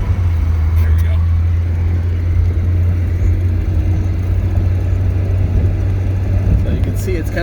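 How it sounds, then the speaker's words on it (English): A 1983 Porsche 944 with a blown fuse problem drives along, a loud, steady low engine rumble with road noise heard from inside the car. "So we'll just kind of drive it a little bit here and see what happens."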